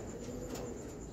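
A racing pigeon gives a brief, low, muffled coo against a dense steady background, close and without talk.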